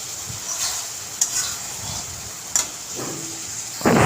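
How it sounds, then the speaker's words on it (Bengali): A spicy prawn and potato curry sizzles and fries in a pan while a spoon stirs it and the last bit of water cooks off, with soft scraping taps over a constant hiss. "এটা নেড়ে চেড়ে শুকিয়ে নেব।"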